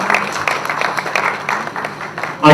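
Audience applause at a Bhojpuri film trailer launch event: a dense, steady spread of clapping from a crowd, fairly close and loud, running through the whole stretch with a voice briefly audible beneath.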